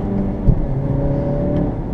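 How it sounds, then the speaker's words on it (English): A 2017 Honda Civic Hatchback Sport manual's engine hums steadily at elevated revs after a gear shift, its tone holding and sinking slowly rather than dropping right away, heard close up. "Yeah, that's some rev hang."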